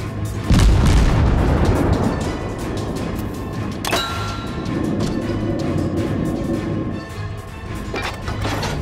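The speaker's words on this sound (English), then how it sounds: "Destroyer blown up." A destroyer blowing up in a World of Warships naval battle, opening with a deep loud boom followed by rumbling and further distant blasts over a continuous low battle din.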